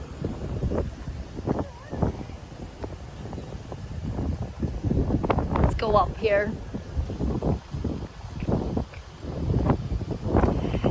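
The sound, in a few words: wind blowing outdoors near Tokyo Tower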